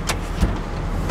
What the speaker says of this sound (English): I'm gonna roll your windows up.